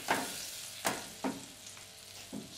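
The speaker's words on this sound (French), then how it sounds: "En le remuant avec une spatule en bois." Butter melting over very low heat in a pan, stirred with a wooden spatula: a few soft scraping strokes spaced about half a second apart over a faint sizzle, with no talking.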